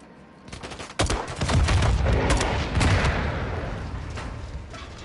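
Gunfire in the Spec Ops video game mission Denied Area: a quiet start, then a sharp crack and dense, rapid volleys of shots with heavy booms. The barrage stays loud and gradually thins toward the end.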